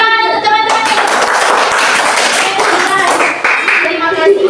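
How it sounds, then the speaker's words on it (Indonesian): Classroom applause as students clap for their classmates' group, a steady dense patter of many hands lasting several seconds, with a teacher's voice and children's speech over it. "Oke, tepuk tangan untuk teman-teman."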